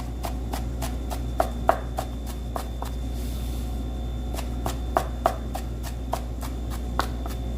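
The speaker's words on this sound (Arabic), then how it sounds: "وبعدين نبقاو بالسكين عليها كده" Sharp knife chops through parsley on a cutting board for tabbouleh, a steady series of crisp taps at an uneven rhythm with a short pause midway, close and clear with no talking.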